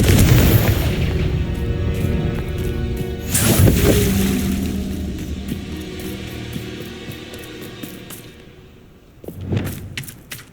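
Confringo fire spell explosions in the Hogwarts Legacy video game: a heavy booming blast, a rumbling decay, then a second sharp blast near the end, over low game ambience.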